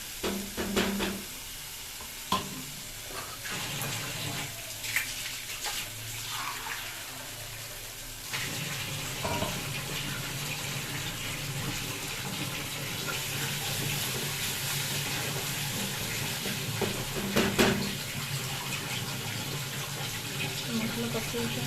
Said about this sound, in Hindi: मसला कषि पानी देना